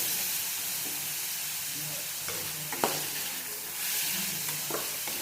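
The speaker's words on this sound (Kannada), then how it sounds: "ಎಲ್ಲನೂ ಸ್ವಲ್ಪ ಫ್ರೈ ಆಗುತ್ತೆ" Ridge gourd chutney ingredients fry in a pan with a loud, continuous sizzle and hiss, broken by a few spatula scrapes and a sharp knock partway through.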